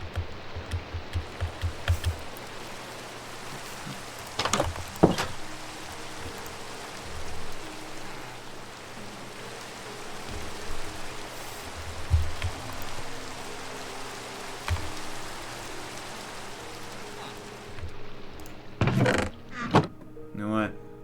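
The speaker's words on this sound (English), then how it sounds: "Oh, it's raining." Steady rain patters in the Minecraft video game, a soft continuous hiss with a few louder clunks and clicks scattered through.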